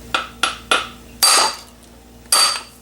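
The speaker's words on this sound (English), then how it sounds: "you can see those 2 taps of the hammer help to separate the motor ends from the motor casing" A hammer taps on the end of the motor shaft of a StaRite Opti Flow pool pump, with three quick metallic clinks, then two heavier ringing strikes a second apart, close and loud over a faint steady hum.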